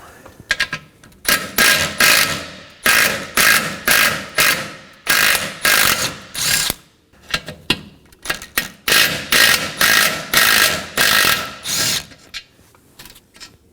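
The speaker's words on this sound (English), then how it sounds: "Now let's remove our mounting bolts." Ratchet wrench removing bumper bracket mounting bolts on a Nissan Maxima, with rapid repeated clicking bursts in loud, close bouts separated by short pauses.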